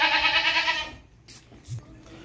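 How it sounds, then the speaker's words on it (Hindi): A two-tooth castrated goat (khassi bakra) bleats loudly in one long harmonic call at close range while being loaded onto a hanging scale at a livestock market, followed by faint handling noises and low background voices. "हर तरह से ज़बरदस्त धुंधा खसी बकरा है"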